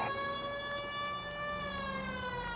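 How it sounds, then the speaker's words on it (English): A wailing police car siren from the video game L.A. Noire rises and falls in a steady, loud, continuous tone, heard alone without talk. "And you turn the siren on."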